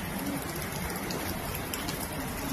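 Steady rain falls without a break, a soft even hiss of drops on surfaces at moderate distance.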